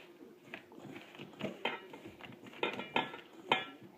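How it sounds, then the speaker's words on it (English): Non-iodized salt and dark brown sugar are stirred together in a large tub for a salmon brine. A spoon scrapes and clinks in a handful of separate strokes, quiet and close, with no talk. "So I'm going to mix this up."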